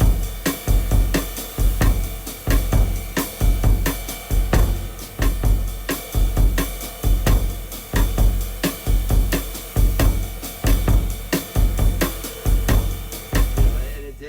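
A drum set plays a steady, repeating groove with punchy kick and snare hits that carry across the bar lines without resetting, recorded close and alone for about fourteen seconds.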